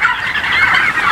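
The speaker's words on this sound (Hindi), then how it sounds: "ये टर्की हैं," A flock of mature farm turkeys, about six months old, gobbling loudly and continuously at close range, a dense overlapping chorus with no talk over it.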